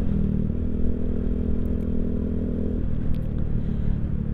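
Honda Beat motorcycle fitted with a loud toothpick-style exhaust, riding in traffic: a steady low engine rumble and drone that holds throughout, dropping slightly in pitch partway, with road clatter and no talk.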